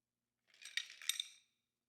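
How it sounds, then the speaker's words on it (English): Liquid pours and splashes briefly onto ice, with a couple of bright clinks of cubes shifting in a glass, close by and short. "we're going to strain this straight onto those ice cubes"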